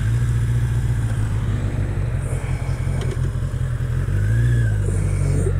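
A motorcycle engine drones steadily while riding, close and loud, with low rumbling tones and slight revving changes over wind rush.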